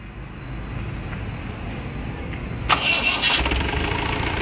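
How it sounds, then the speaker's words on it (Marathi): A Mahindra Commander jeep modified to a 91-style jeep cranks briefly and catches, then settles into a loud, close, rough idle. "गाडी चालू करा."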